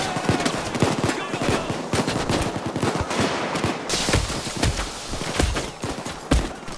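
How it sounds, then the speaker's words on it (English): Rapid gunfire crackles in the heist shooter Payday 2 Crime Wave Edition, with dense bursts and repeated sharp shots throughout, close and loud, mixed with other game noise. "Oh, keep shooting at me, you dicks!"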